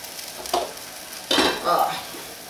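Food with garlic oil cooking in a pan, giving a soft sizzle and short bursts of stirring scrapes. Two louder swells of frying noise rise over a quiet, steady hiss.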